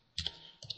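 Keys on a computer keyboard are tapped in a brief burst, a few quick close clicks in an otherwise quiet moment.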